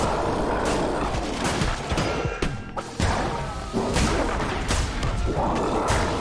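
Bombs explode during a fight in Cult of the Lamb, with repeated loud booming crashes and impacts layered over busy game sounds throughout.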